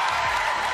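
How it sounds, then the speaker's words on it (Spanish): Audience applause during a Got Talent Argentina 2023 audition for a freestyle football act: a dense, steady wash of many hands clapping at close range, brief and without pause. "¡Aplauso!"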